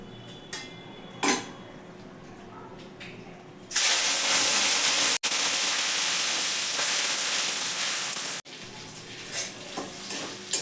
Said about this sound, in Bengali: দুশো গ্রাম চিংড়ি মাছ আছে নুন মাখি রেখেছিলাম এটাকে আমি ভেজে নিচ্ছি